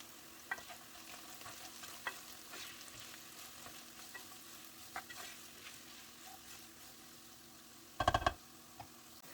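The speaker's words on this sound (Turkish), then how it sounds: "Ve soğanla birlikte de kavurmaya devam ediyorum." Steady soft sizzling of onions and green beans frying in a pan, with occasional scrapes of stirring and a brief clattering knock near the end.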